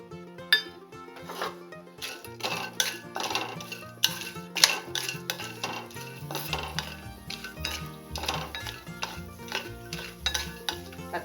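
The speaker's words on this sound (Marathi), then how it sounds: "त्यामध्ये आता हा भाज्या टाकून घेऊ." Mixed vegetables tossed in a little oil in a kadhai while dry-roasting ingredients for homemade garam masala: steady clinking and scraping of a spoon against the pan with light sizzling, close and busy throughout.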